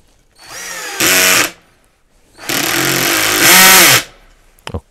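A Topshak TS-ED3 cordless drill driver drives a large 5 x 20 screw in two bursts of loud whining motor and gear noise, the second longer and rising as the clutch engages, then a couple of faint clicks.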